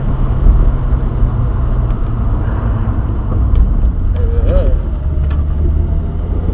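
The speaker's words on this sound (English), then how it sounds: "We are back on the road after Chris popping off the boost pipe." A single-turbo Toyota Supra driving on the road, its engine droning steadily over road and tyre noise from inside the car, with a brief higher whine near the end.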